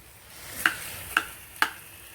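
Boiled potatoes stirred in a pan for samosa filling, three sharp, evenly spaced clacks of a utensil against the pan over a quiet background, close and distinct.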